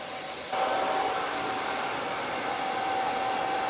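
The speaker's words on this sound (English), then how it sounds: "We're probably going to get a little bit more lift and a lot more curl because of the diffuser than we would with air drying." A hair dryer fitted with a diffuser blows on curly hair, a steady close whirring hum that jumps louder about half a second in and then holds evenly.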